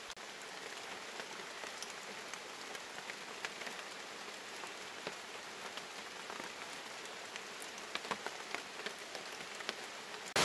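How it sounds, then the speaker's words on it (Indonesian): Heavy rain pours down in a forest, a dense, steady hiss of drops striking leaves and ground that continues unbroken throughout, with occasional sharper drip impacts and no voices. "Hujan makin lebat ini sepertinya ini."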